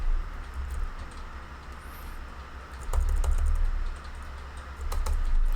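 Continuous keyboard typing while writing code for an OpenFOAM patch file, with steady close clicking through the stretch and a few louder bursts of keystrokes.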